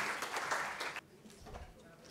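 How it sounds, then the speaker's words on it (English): A burst of applause from a crowd at an exhibition launch in Mumbai, dense and steady for about a second, then cutting off into quieter room noise with some low rumbling. "give a round of applause for our today's dignitaries and chief guests."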